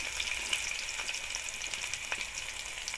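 Chopped onion and garlic frying in hot oil give a steady, close, bright hiss and crackle that runs unbroken throughout, with no talking.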